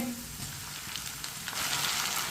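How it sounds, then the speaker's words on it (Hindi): Finely chopped tomatoes added to a hot pan with browned ingredients while cooking rajma, setting off a steady close sizzle that swells louder toward the end, with no voices. "2 टमाटर डाल लेंगे बारीक कटे हुए"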